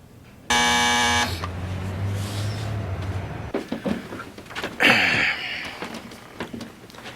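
A harsh electric door buzzer sounds once, loud and steady for about a second, followed by clattering and shuffling noises nearby.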